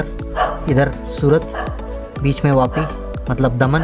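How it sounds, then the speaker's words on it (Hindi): Several dogs bark and yip in repeated bursts during a cyclone on the Mumbai–Gujarat coast, loud and close, while someone talks over them. "कुत्ते भी भौंक रहे हैं"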